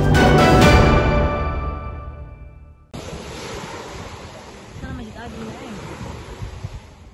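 Ocean waves at Fatuvuri beach in Palu, a fishing spot: loud surf washing in and breaking with rushing foam and wind buffeting the microphone, following a fading tonal sound at the start.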